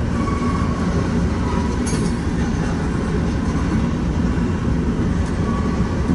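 A freight train rolls past steadily at Elkhart Yard with a dense rumble and metallic rattle of cars, a brief squeal cutting through near the start.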